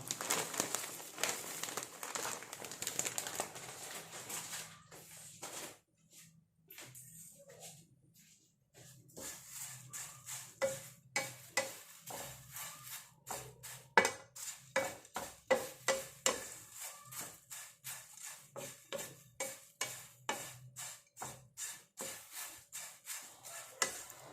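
Red flattened rice (aval) is stirred while dry-roasting in a pan, giving soft rustling and scraping. Quiet, rhythmic strokes of the spoon come one after another near the pan.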